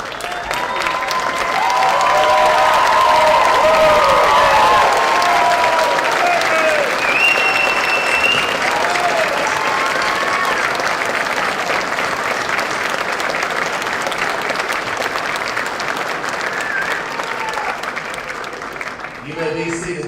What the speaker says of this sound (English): That's one round of applause. It's a hoops and hollers.